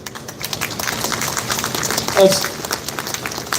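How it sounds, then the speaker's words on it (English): An audience at a DLF Privana North real estate event breaks into steady, dense applause, a continuous wash of clapping heard from a moderate distance with a brief louder swell partway through. "I think it needs a big round of applause, ladies and gentlemen."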